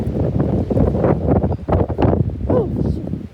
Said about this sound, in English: It's insanely windy.